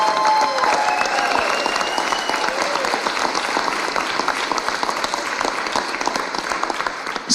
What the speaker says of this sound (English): can we have a round of applause for our veterans?